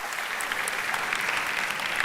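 An audience at a conference session claps steadily, a dense, even wash of applause that stays loud throughout with no talk over it.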